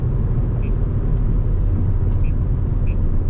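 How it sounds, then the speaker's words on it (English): A Mercedes-AMG CLA45 engine roars steadily and loudly from close by during a launch from standstill, a dense low rumble holding throughout with faint high chirps over it. "race start, paddle up, depress gas, release brake"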